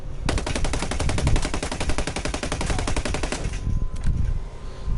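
An AUG rifle in Ghost Recon fires a long, rapid, evenly spaced automatic burst for about three seconds, loud and close, followed by a couple of trailing shots and low rumble.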